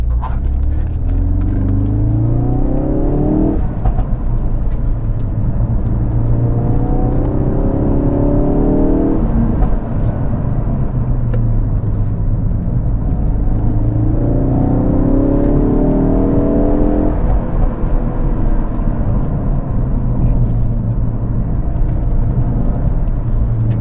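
A Ford Focus RS engine accelerates hard, heard from inside the cabin, its pitch climbing then dropping with each gear change, repeated over several loud pulls.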